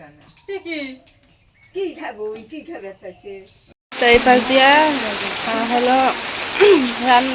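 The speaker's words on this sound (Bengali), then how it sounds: "এই বৃষ্টি শুরু হয়ে গেলো" Rain begins falling at a home, a steady hiss that suddenly rises after a quiet stretch and continues under someone talking.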